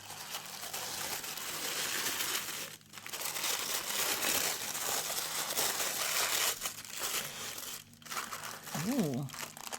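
Paper from a craft kit box being handled and crinkled, continuous close rustling and crumpling with brief pauses, and a short voiced sound near the end.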